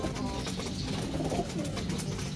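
Pigeons feeding hungrily after a morning without food, their soft cooing and rustling steady and close throughout, with no talk.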